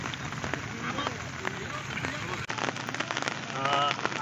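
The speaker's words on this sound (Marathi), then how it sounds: "पावसाचा तुम्ही जोर बघाल ना, पाऊस काही कमी होत नाही" Heavy monsoon rain drums steadily on surfaces near rice paddies during planting season in rural Konkan, with a dense hiss that swells toward the end and voices talking underneath.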